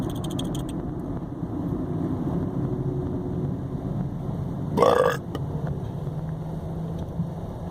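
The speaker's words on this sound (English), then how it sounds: "Belch." A single loud, rough belch rises midway through a steady low engine rumble inside a moving car, lasting under half a second before the cabin drone continues alone.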